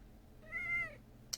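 A house cat gives a single soft, drawn-out meow in a quiet indoor room, followed by a brief faint click.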